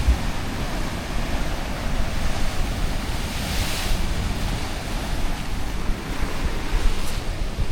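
Choppy ocean waves wash and churn continuously, with gusty wind buffeting the microphone in a loud, unbroken roar.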